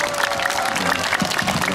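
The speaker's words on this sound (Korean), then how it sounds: "다시 한번 응원의 박수 부탁드리겠습니다" An audience claps at an outdoor festival for people with disabilities in Mapo. The applause is dense and continuous through the short stretch, with a faint murmur of crowd voices mixed in.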